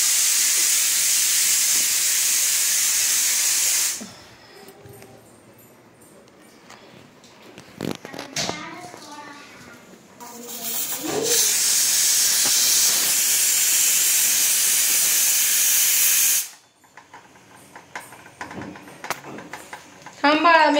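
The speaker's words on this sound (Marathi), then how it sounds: "कुकरच्या अजून 2 शिट्ट्या राहिल्यात" Pressure cooker in a home kitchen whistles, releasing steam in two long loud hissing bursts separated by quieter stretches with voices talking in between.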